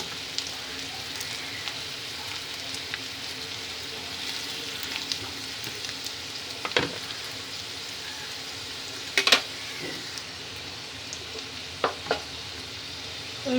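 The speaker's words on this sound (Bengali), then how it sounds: "কালো জিরে আর কাঁচা লঙ্কা দেওয়ার পরে আমি ভাজা আলুগুলো দিয়ে দিলাম" Fried potato pieces go into hot oil with nigella seeds and green chili for aloo posto, making a steady sizzle broken by occasional spatula clinks and scrapes; no one speaks.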